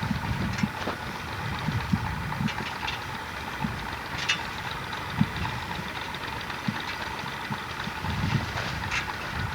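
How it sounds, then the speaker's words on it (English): A Massey Ferguson tractor runs while spraying a tobacco field, its engine a steady rumbling drone heard at a moderate distance, with small knocks and clatters over it and no voices. "That's a Massey Ferguson tractor he's got there."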